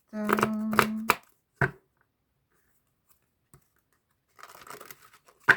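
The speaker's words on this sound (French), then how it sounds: "Je remélange les cartes." A deck of tarot cards is reshuffled by hand during a reading, giving short papery riffles and slides near the start and again toward the end, with a voice speaking briefly over the first burst.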